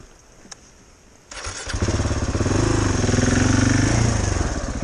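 A single-cylinder enduro motorcycle, a Suzuki DR650 or KTM 690 Enduro R, sits quiet before its engine catches and roars up into a loud, steady, throbbing rev held close by for several seconds.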